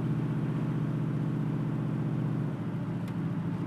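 A 1968 Chevrolet Camaro drives along with its engine giving a steady, smooth low rumble from inside the car, continuous and even with no talk.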